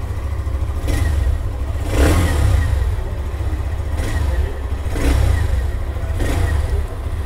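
A 2024 Hero Xtreme 125R motorcycle's 125cc engine idles with a low rumble, revved in short bursts several times, each rise rasping louder before settling back.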